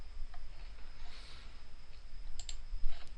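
A few faint, sharp computer mouse clicks while navigating a library website, short isolated ticks over a quiet background hum.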